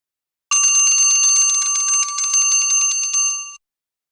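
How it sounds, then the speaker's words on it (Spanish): A household alarm clock rings with a rapid, bright metallic trill for about three seconds, loud and continuous, heard alone before stopping. "Despertador."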